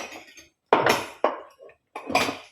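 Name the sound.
washing dishes by hand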